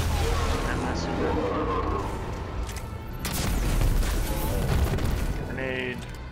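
Rocket launcher blasts in Destiny 2 during a Titan Sunbreaker nightfall run, heavy booming explosions and rumbling impacts that swell and fade amid other game effects, with someone talking over them.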